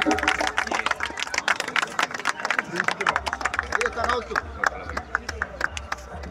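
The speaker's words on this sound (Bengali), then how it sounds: "চন্দ্রশেখর নাইডুকে ওর জন্য হাততালি" An audience at the Kharagpur Yuva Sanskriti Utsab festival welcoming ceremony claps steadily, a dense patter of many hands with a voice speaking over a PA system throughout.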